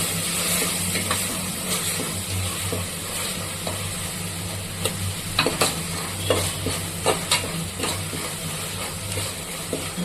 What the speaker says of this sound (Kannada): ಸ್ವಲ್ಪ ಇದು ಫ್ರೈ ಆಗಬೇಕು. ಮೊಟ್ಟೆ ಹಾಕಿದ್ಮೇಲೆ